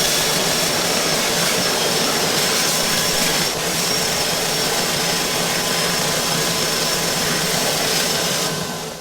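Power sander stripping the engine bay of a Renault 5 Alpine, coated with blaxon and tar: a loud, steady, high-pitched whine and rush of abrasion running continuously, close by, with a slight dip midway and a trailing off at the end.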